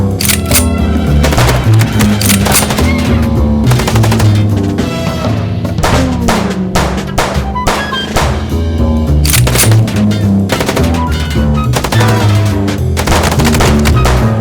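Rapid bursts of video-game gunfire crack and rattle continuously from the Chicken Police shootout, loud and dense over a driving music score, with repeated sharp shots stacking into volleys throughout.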